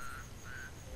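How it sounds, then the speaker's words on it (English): A frog croaks in Castlevania: Lords of Shadow, giving a low, steady drone with two brief higher tones over a continuous game background. "I was trying to hit that frog."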